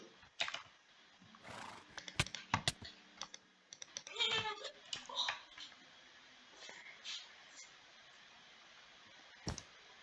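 A horse nickers and whinnies amid sharp clicks and hoof clatter, with short bursts of talk scattered through otherwise quiet stretches.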